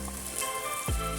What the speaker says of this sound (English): Stir fry everything about half minute